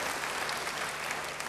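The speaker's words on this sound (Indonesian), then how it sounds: "Sekali lagi, beri tepuk tangan yang baik bagi dia." A church congregation claps in steady, dense applause that fills the space evenly from start to finish, loud and continuous, with no voices standing out.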